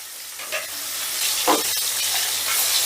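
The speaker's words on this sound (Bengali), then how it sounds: "এবারে গ্যাসের আঁচটা মিডিয়ামে রেখে মাছের এক পিঠটা ভেজে নেব" Pieces of pangas fish fry in a pan over medium heat, with a continuous close sizzle and a brief stirring or shifting sound partway through.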